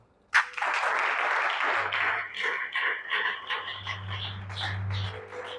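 A church congregation at a Sunday worship service bursts into sudden, close applause that continues and gradually thins, while low sustained instrument tones hum underneath.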